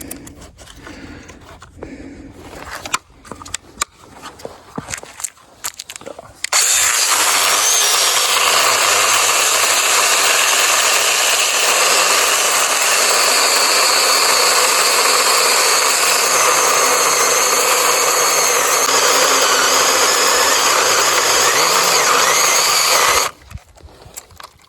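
An 8-inch mini cordless chainsaw cuts a large standing dead red oak with a loud, continuous high-pitched buzz lasting about seventeen seconds, preceded by some clatter and handling noises.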